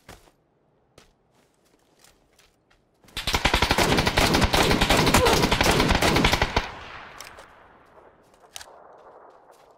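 Rapid, sustained automatic-sounding bursts from an Mk-14 rifle in a video game, loud and close for about three seconds, then trailing off into scattered lighter shots and faint ambient noise.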